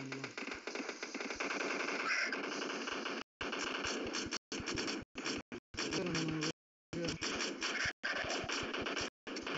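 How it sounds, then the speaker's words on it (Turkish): Automatic gunfire in PUBG Mobile rattles out in loud, rapid sustained bursts, broken by a few brief silent gaps and quickly resuming. "Biri daha vuruyor beni."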